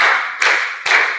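Three crisp claps from a group clapping exercise in a classroom, evenly spaced about 0.4 seconds apart, loud and near with a bright, echoing ring and no voices.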